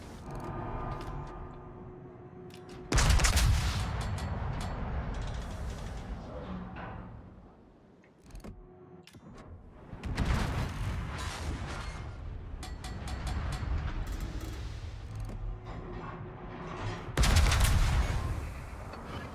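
Heavy naval gunfire from a warship in World of Warships, aimed at the ship Auckland, booms out in several loud, rumbling salvos with long roaring decays and lighter thuds in between.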